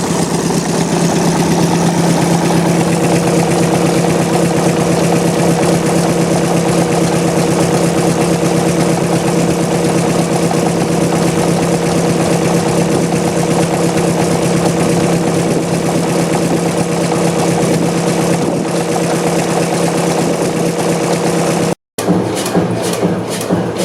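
A large two-stroke diesel engine runs with a steady, deep, droning throb and strong low hum, loud and unchanging for over twenty seconds before a brief cutout near the end, after which it resumes.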